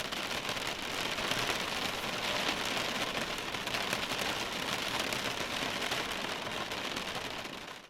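Immersive rain for podcast sound design, a steady dense hiss of drops on surfaces that holds evenly loud and close throughout, with no voices.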